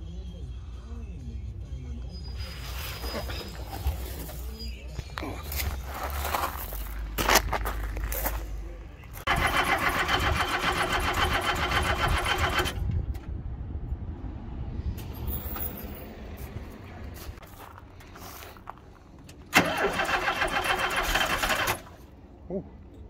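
An old VW T25 van engine, unstarted for twenty years, cranks in long whirring bursts with fuel in the carburettor, several separate attempts with pauses and background clatter between, close and loud, with someone talking at times.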